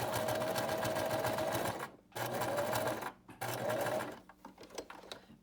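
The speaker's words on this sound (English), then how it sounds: "sticking it under machine, and I stitch it here about I guess 3/16 from the edge of my mask." Sewing machine stitching the edge of a fabric face mask, a close steady whirring hum in three long runs with short stops between, then scattered handling clicks.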